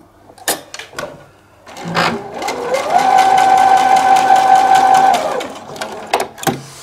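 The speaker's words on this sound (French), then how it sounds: "Je mets 2 carrés un sur l'autre. Je couds." Sewing machine stitching two fabric squares laid one on top of the other, running in one steady whirring burst of about three seconds, framed by clicks and handling of the fabric, close and loud.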